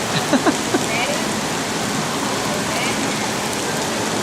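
Steady rain falling outdoors at a train platform in St. Louis, a dense, even hiss of drops on surfaces, with a few brief voiced sounds near the start.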